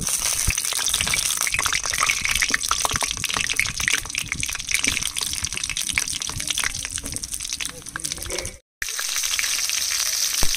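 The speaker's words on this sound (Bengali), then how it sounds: "এবার পটলগুলো ভেজে নেব।" Stuffed pointed gourds frying in mustard oil in a wok, a loud continuous crackling sizzle with bursts of spattering, broken by a brief silent gap near the end before the frying resumes.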